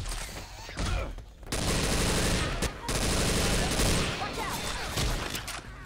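Gunfire aimed at the Tank in the video game Left 4 Dead 2, with two long, loud bursts of rapid automatic shots separated by a brief gap and crowded with game noise, tapering off toward the end.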